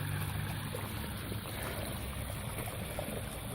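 Water gushing from a disconnected pipe on a 22,000-litre water tank, a steady, soft splashing rush that continues evenly throughout with no talk.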